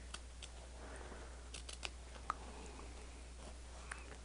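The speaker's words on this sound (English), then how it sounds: "I'm going to tilt my scissors just a little bit so that they get even closer" Scissors trimming purple quilt fabric up close, a few soft snips and faint clicks over a quiet hiss, with no talking.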